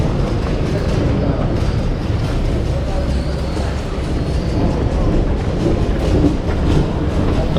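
Airport train heading into the city in Jakarta: a steady rumble and rolling clatter from inside the carriage, loud and continuous, with voices talking over it.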